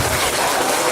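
An indoor audience at a talk gives a dense burst of applause, a loud and steady wash of clapping that fills the whole moment.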